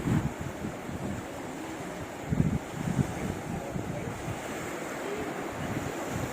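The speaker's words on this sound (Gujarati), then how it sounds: "એ મસ્ત ઠંડો પવન ને આ શું મજા આવે" Steady rush of cool wind across the microphone at Gomti Ghat in Dwarka, with a soft wash of waves underneath, continuous and fairly loud throughout.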